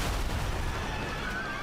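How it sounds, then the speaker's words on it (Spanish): Loud dramatized explosion from the shoot-down of Iran Air Flight 655 over the Persian Gulf, a dense sustained roar of blast noise filling the whole moment at close range with no speech over it. "Hubo una explosión fuerte."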